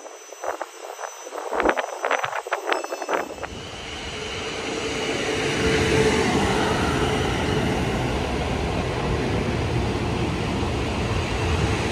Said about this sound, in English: Then we took a train to Windsor